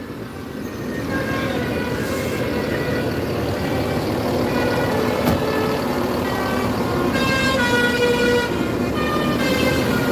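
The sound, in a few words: bus pulling in behind on the road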